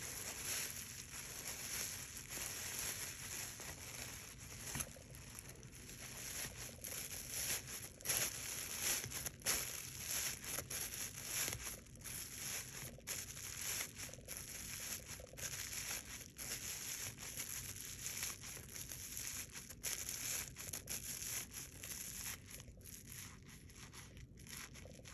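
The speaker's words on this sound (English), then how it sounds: "I'm going to stuff my last plastic bag in here now that the hole is a lot" A thin plastic bag is crumpled and crinkled while being stuffed by hand into a macrame koala, a steady close rustling and crushing texture that runs without pause.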